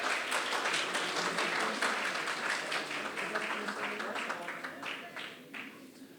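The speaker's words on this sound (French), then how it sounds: "On applaudit bien fort." Audience applause and clapping at an eloquence contest heat, welcoming the next candidate. It is sustained and dense throughout, fading slightly toward the end, with some background voices mixed in.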